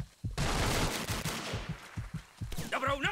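Video-game gunfire from the Vietnam war shooter Vietcong rattles in rapid repeated bursts of sharp cracks, loud and close, and a voice speaks briefly at the end.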